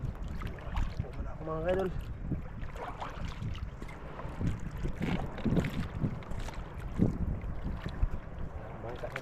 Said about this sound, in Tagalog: Bangka kasi mga ka-idol nagdaan.